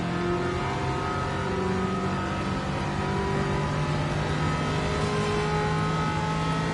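In Gran Turismo 7, a road car at a Le Mans race drones steadily at close range, its engine holding a loud sustained tone with slight pitch shifts and no talk.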